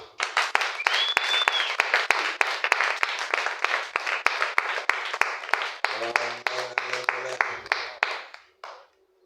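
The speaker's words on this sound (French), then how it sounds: "Vous pouvez acclamer pour le roi des rois." A church congregation applauds in a rhythmic, steady beat of claps, loud and close, with a brief raised voice partway through before the clapping tapers off and stops.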